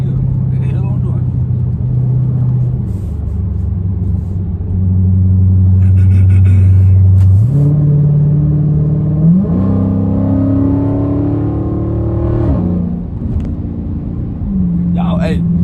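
A Dodge Charger Scat Pack with over 500 hp accelerates with a steady rumble and a rising whine that climbs in pitch through the gears, heard from inside the car.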